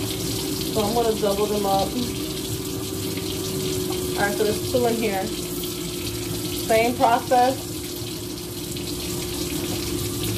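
Kitchen tap water runs steadily throughout while a person talks over it, preparing a plant-based Cuban meatloaf platter.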